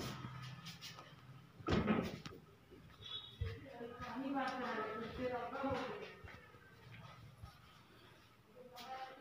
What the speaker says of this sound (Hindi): ये फ्रिज खोल लेता हूँ